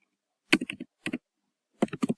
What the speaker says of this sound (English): I will go ahead and I will type